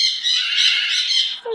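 A pet bird gives a loud, harsh, sustained squawk close by, lasting over a second with a rough grating texture and no talk over it.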